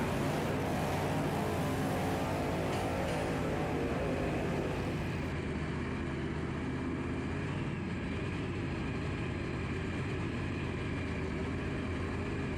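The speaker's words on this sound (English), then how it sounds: "Burnout pause here." A Top Alcohol Funny Car at a drag strip gives a loud, dense engine roar during a burnout pause, heavy and continuous, easing to a lower steady rumble partway through.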